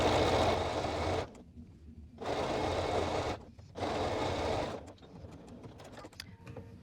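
A sewing machine stitches a stretched neckband into a knit top's neckline, running in three steady bursts of a few seconds each, separated by short pauses, close and fairly loud with no talking.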